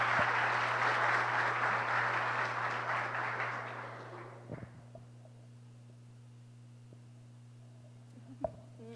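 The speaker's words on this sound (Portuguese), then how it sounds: "Aplaudam a Sara, gente." Audience applauding to welcome Sara, a woman guest at a church family event, with a broad wash of clapping that fades over about four seconds, a low steady hum underneath, then quiet with a couple of faint knocks.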